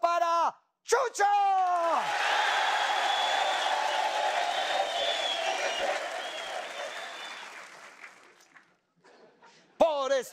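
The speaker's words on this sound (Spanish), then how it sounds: "Un gran aplauso para Chucho." Audience applause with whoops and cheers fills a Colombian TV variety show studio, rising loud after brief speech and fading out, with a host's voice heard before and after.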